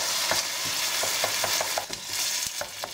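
Meat and tomato sauce for a Greek moussaka is stirred in a pan, a spoon scraping and clacking in an irregular rhythm over a steady low sizzle, close and fairly loud.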